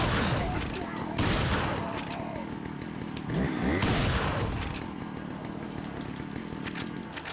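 Repeated shotgun blasts from Resident Evil 4 combat, loud bursts near the start and middle over a dense, busy game soundscape with enemies nearby.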